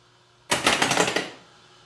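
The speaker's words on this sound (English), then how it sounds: "Some serious hiss." Loud burst of electronic hiss and crackle from the sound board of a Bally Paragon pinball machine under repair, rising abruptly and holding for under a second before tapering off.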